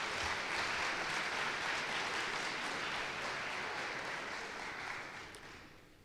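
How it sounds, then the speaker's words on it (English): An audience at a school athletics awards night applauds student athletes, a dense, sustained wash of clapping that holds steady and then begins to fade toward the end. "Let's give them a big round of applause for their efforts."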